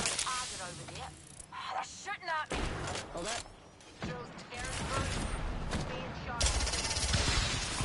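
Rapid gunfire bursts in a shooter video game crackle in short volleys and single shots, mixed with excited players talking over the action.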